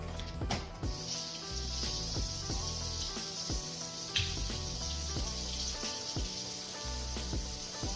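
A kitchen sink tap runs while hands are washed, a steady close hiss of flowing water with small splashes and clatter, heard alone without talk.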